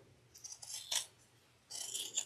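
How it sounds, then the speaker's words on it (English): Scissors snipping fabric for a zippy sewing bag, two short bursts of crisp cutting strokes close by, separated by a quiet pause. "I'm just using my scissors."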